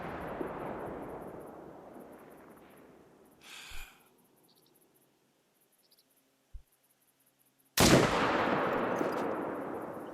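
Two loud .300 Canning Magnum rifle shots in the hunting game theHunter: Call of the Wild, each a sharp blast with a long decaying tail, plus a faint distant thud between them.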